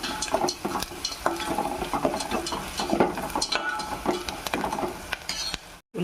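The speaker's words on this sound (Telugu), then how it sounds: "పచ్చి వాసన పోయేదాకా మంచిగా ఫ్రై చేసుకుందాం" Onions with turmeric fry in a pan, giving a steady close sizzle broken by busy scraping and stirring strokes throughout, with no talking, before a sudden brief cut near the end.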